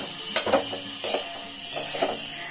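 Semolina (suji) is stirred in a pan with the flame off, a utensil scraping through the dry grains in about four distinct, close rasping strokes, with no talking.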